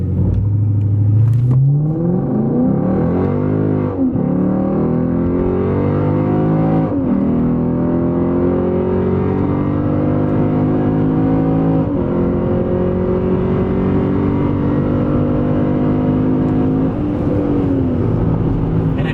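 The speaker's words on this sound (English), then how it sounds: "we're going to be pulling out here and doing our launch basically right near those trees" A Lexus ISF and a Camaro SS launch hard in a drag run, engines roaring loud and steady through repeated rising gear pulls with brief shift dips, continuous close engine noise throughout.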